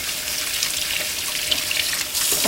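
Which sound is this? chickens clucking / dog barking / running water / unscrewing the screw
running water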